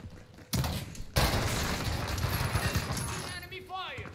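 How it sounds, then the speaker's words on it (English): Sustained automatic gunfire in Warzone, a dense loud burst starting abruptly and continuing steadily, with a short gap before it resumes and some whistling tones trailing at the end. "Enemy fire."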